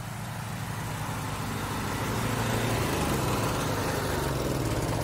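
Steady low rumble of four pressure washer engines running nearby, droning continuously without pause.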